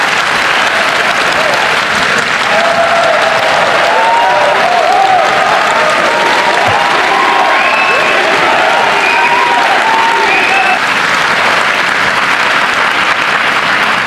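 A large audience at a government address claps loudly and continuously, a dense sustained applause filling the room, with faint murmurs mixed in.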